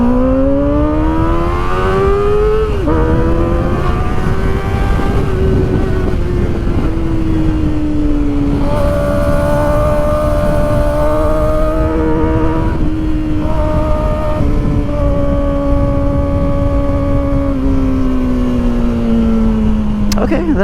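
A Kawasaki Ninja ZX4-RR motorcycle passes slowly at Red Cliff, its high-revving inline engine whining steadily and shifting pitch as it goes by, loud and close throughout.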